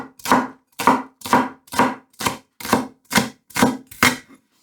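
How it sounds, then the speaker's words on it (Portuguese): A knife chops spring onions into small pieces on a cutting board, nine evenly spaced, crisp strokes in a steady rhythm, close and clear with no talking. "E a cebolinha podem cortar pequeno, como estou fazendo"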